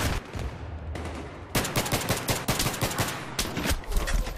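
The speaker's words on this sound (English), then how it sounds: "He caught me with a shotgun? It probably had a yeah, a slug." Battlefield 3 combat in an underground map: a rapid string of sharp gunshots rings out at moderate level, dense bursts after a quieter opening with a few scattered shots.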